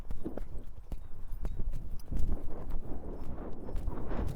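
A horse lopes along in a steady rhythm of hoofbeats, close by, repeating across the whole stretch with a little ambient rumble and no talk.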